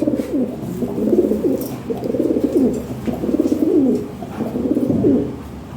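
Lahore pigeons coo close by in a steady rhythm, about five rolling throaty phrases with a rising-falling swoop each, loud and clear over a faint background hum.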